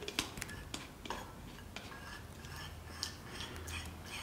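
Eggless snowball batter with milk and vanilla essence beaten in a bowl, quiet irregular clinks and taps of a utensil against the bowl with soft stirring between, close and faint.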